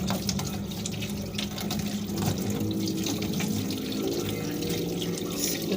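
Water runs steadily from a tap into a sink, a continuous close splashing rush with no pauses.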